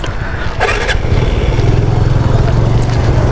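A motorcycle sets off on a long group ride toward Udhampur in Jammu. It gives a loud, close, steady engine rumble that rises after a brief whooshing swell, with voices faintly mixed in.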